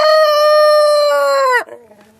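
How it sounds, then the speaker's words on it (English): A rooster crows under a summer bush, one long loud harmonic call held steady and then breaking off abruptly, followed by faint low clucks. "Always hear the clucking from the bush."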